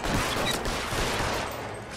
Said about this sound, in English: Tried to go for the disarming shot,